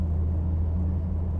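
Steady low, droning rumble of a Nissan Skyline R33 GT-R with its RB engine running, heard fairly close and continuous without any talking.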